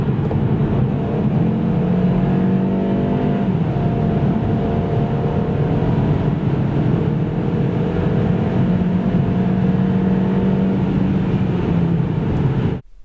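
Kia XCeed 2023 GT-Line with a 1.5 T-GDI 160 hp petrol engine accelerating from 90 to 140 km/h, a steady loud engine drone and road noise rising in pitch, heard from inside the car with no talk.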